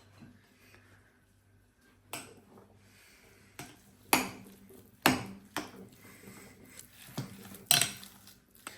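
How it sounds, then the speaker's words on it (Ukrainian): An appetizer mixture with salt and black pepper is mixed in a bowl: sparse clinks and sharp taps of a utensil against the bowl, separated by quiet pauses, close and fairly soft. "Тепер нам залишилося все це гарно перемішати."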